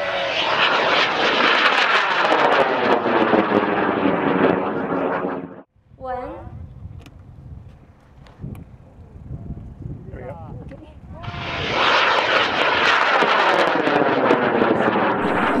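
A rocket's engine roars at launch in the Black Rock Desert, carrying an Intel Edison CanSat payload. The loud broadband blast fills the first five seconds, breaks for a stretch of talk, then surges back strongly.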